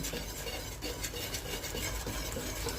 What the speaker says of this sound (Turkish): Şimdi bunu yavaş yavaş bu şekilde karıştırarak pişiriyorum.